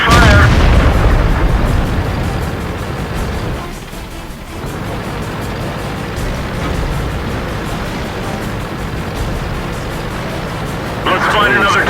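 A tank cannon in World of Tanks fires with a heavy booming blast at the start and again near the end, the rumble of the vehicle filling the gap between shots.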